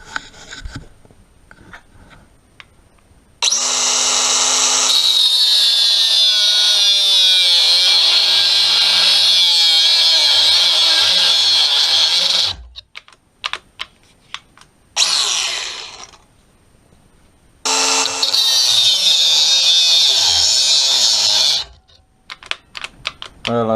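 Fake DeWalt XR brushed cut-off tool grinding into solid rebar: a loud, sustained high-pitched cutting whine that abruptly stops and restarts as the tool keeps cutting out, with clicks and handling noise between runs.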